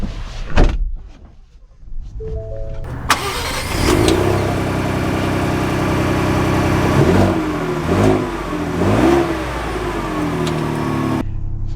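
A 2024 Ford Bronco Wildtrak two-door: thuds like doors closing come first, then the engine fires up and idles with a close, rumbling drone, revving in a few surges before settling.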